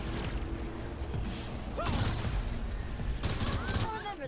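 Gunfire in the Saints Row 4 video game, a dense fusillade of rapid shots with two louder bursts of firing over continuous game noise.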